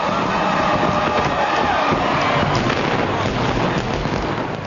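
A fireworks show crackles and booms in a dense, continuous barrage, loud and sustained, with faint crowd noise mixed beneath.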